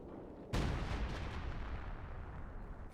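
Base howitzer artillery fire in the video game Company of Heroes 2: a single heavy booming blast breaks in after brief low rumble, then a long rolling roar and rumble decays under it.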